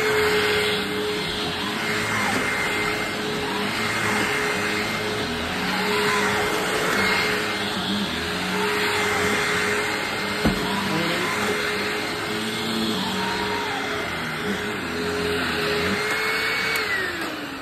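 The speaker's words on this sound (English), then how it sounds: "I think that's all the areas that we got vacuumed" A vacuum cleaner drones continuously at close range while a floor is vacuumed ahead of a Rug Doctor Mighty Pro X3 carpet cleaner demo, a steady motor whine with small pitch shifts and a brief knock.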